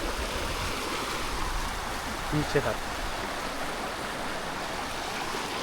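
Clear mountain river near Rishikesh running over stones: a steady, full rushing wash of water close by, with someone speaking briefly under it.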